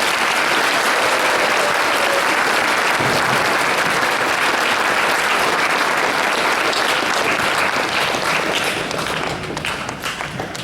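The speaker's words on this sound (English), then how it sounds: "please give her a round of applause" Sustained applause from a high school audience in a school gathering, a dense steady wash of clapping hands filling the room for about ten seconds and tapering slightly at the end, with no voices over it.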